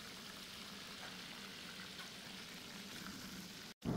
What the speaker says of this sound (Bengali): চিকেনগুলোকে আমি ডিপ ফ্রাই করে নেব।